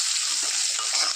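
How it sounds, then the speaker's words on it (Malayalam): Curry leaves frying in hot oil for an okra pickle, giving a dense, continuous close sizzle that holds steady through a very short stretch, with no talking. "ഇതിലേക്ക് കുറച്ച് കറിവേപ്പില ചേർത്ത് കൊടുക്കാം."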